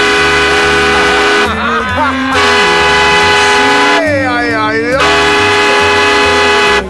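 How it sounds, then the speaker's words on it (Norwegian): A loud, deep ship horn of the steamship M/S Henrik Ibsen sounds in long sustained blasts, with brief breaks where other tones and voices come through between them. "Her snakker vi tuting."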